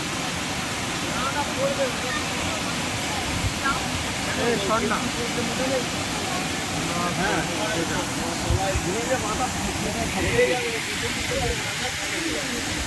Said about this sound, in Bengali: ওর থেকে নামতে যাবে ঝর্ণাটা